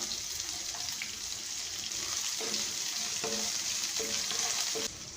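Chopped onion and garlic sautéing in a pan for ridge gourd chutney: a continuous hissing sizzle with a few stirring knocks from a spoon, heard close and alone.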